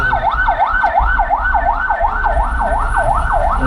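Ambulance siren on a Manila street, a loud wailing tone sweeping up and down in a steady, rapid cycle close by with road noise underneath.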